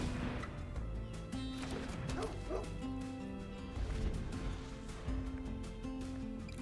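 A little dog yips and barks in short bursts in Magic: The Gathering Arena, the sound effect clear over a steady game music bed.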